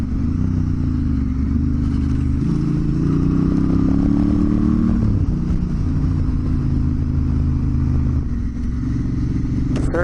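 A motorcycle cruises along an open road with a steady, loud engine drone and wind rumble, with small changes in pitch as the throttle shifts.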